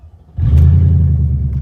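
Mercedes S430 V8 with no exhaust fitted, starting up and revving in a driveway: a sudden loud, deep rumbling roar that holds steady, close by.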